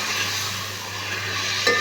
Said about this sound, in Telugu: ఇప్పుడు ఆనియన్ మగ్గిపోయింది కదా, ఇప్పుడు టమాటా వేసుకున్నాం. అలాగే పుదీనా ఆకులు కూడా వేసేసుకున్నాం.